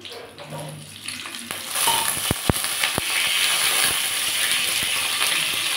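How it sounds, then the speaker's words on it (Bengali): Potatoes dropped into hot oil for frying: a few sharp clinks and knocks, then a loud, steady sizzle that swells and stays close and continuous. "এবার এই তেলের মধ্যে আমি আলু দিয়ে দেবো"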